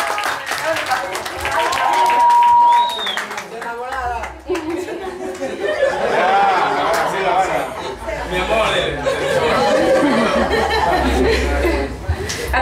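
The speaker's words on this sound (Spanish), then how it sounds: "¡Venga los aplausos!" Applause and cheering at a birthday party, a loud continuous burst of clapping with chatter, laughter and voices throughout, crowd noise filling the room.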